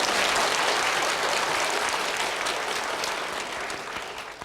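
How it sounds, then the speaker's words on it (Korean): Church congregation at a Korean worship service giving a vigorous round of applause, dense steady clapping that stays loud and then slowly tapers off. "하나님께 감사의 영광의 박수 힘차게 하고 갑시다"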